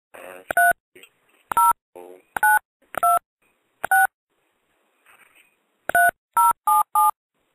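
A telephone keypad is dialed to call someone back on a talk radio show, a run of clear touch-tone beeps in two bursts with brief murmured speech between them.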